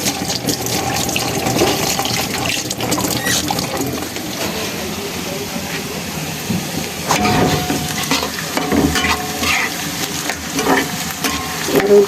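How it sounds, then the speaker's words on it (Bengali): Cooking oil heating in a pan on a home stove for a chicken roast, giving a steady close sizzle and crackle with occasional scrapes and clinks of stirring, and a voice talking faintly at times. "তেলটা গরম হতে দিছি।"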